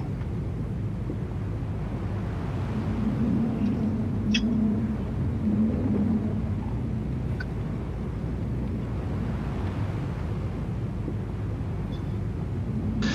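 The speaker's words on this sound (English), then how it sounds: "Is the sound like this for a whole game? The wind?" Constant wind ambience in a video game, a steady low rushing roar that fills the whole stretch at an even level, with a few faint brief clicks on top and no talk.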